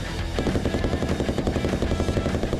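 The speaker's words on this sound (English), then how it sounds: "They actually had mounted on a turret a belt-fed machine gun." A belt-fed machine gun mounted on a turret fires in a sustained, rapid-fire burst, loud and close with a dense rattling rhythm throughout.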